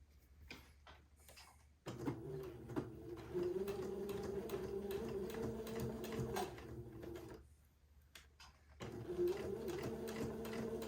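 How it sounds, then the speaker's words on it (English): A sewing machine stitches pleated smocking onto a bishop dress, its steady mechanical whir running in two long bursts separated by a brief pause, close and clear with no talking. "I'm going to sew right immediately to the left-hand side of that smocking row"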